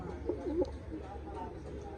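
Pigeons give a soft, low coo twice in quick succession, close but faint, over steady background noise.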